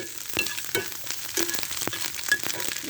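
Eggs fry in oil in a wok, giving a close, steady sizzle with scattered crackles and pops and the occasional scrape of a stirring utensil.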